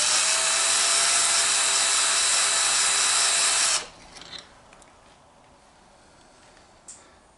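A drill with an 8.5mm bit spotting a hole in a casting on a Cormak ZX 7045 milling machine, a loud steady high-pitched whine for several seconds that stops abruptly, followed by faint workshop clicks.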